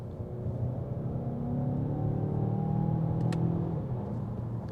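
A Mazda CX-5 Turbo engine revs after a downshift to third, a steady mid-pitched drone climbing gradually in pitch under road rumble, heard from inside the cabin with a brief click near the end.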